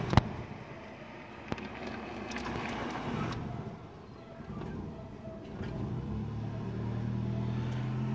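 A Nissan Tsuru with a 16-valve engine runs at idle. It makes a low, steady, fairly quiet hum with faint wind noise, after a sharp click near the start.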